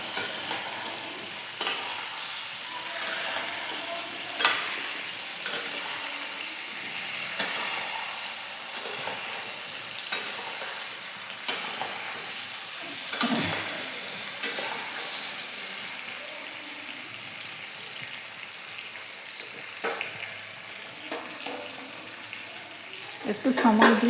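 Pointed gourd (potol) frying in hot oil with salt and turmeric, a steady broadband sizzle running throughout with occasional stirring knocks and scrapes, close and moderately loud, with no voices.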